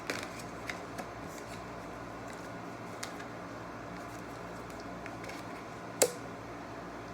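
Tarot cards being handled and spread out, soft papery slides and light taps close by in a quiet room, with one sharper snap near the end.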